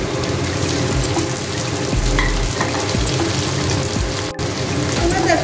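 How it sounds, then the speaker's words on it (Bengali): Chopped tomato goes into a hot pan of garlic for egg tarka, giving a steady bright sizzle and crackle with occasional stirring clinks, fairly close. "এবার আমি এর মধ্যে টমেটো কুচিটা অ্যাড করব।"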